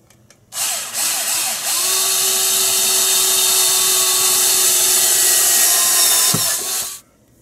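Power drill boring ventilation holes in a hard drive enclosure cover, one loud sustained whirring run of about six seconds starting and stopping abruptly, close up and with no talk.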